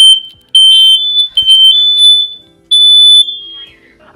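An electronic alarm chirps in loud, shrill high-pitched beeps, several short bursts and two longer tones, close by with brief gaps between.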